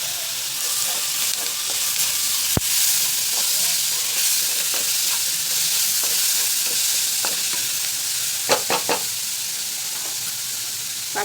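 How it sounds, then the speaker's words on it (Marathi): Chopped tomatoes and onion sauté in a pan with a constant bright hiss and sizzle, plus occasional sharp clicks and scrapes of a utensil against the pan. "छान परतले टोमॅटो आणि कांदा"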